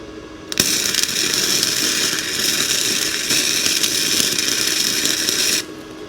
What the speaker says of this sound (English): I'm just going to grab a flap disc, clean a little spot for my grounding clamp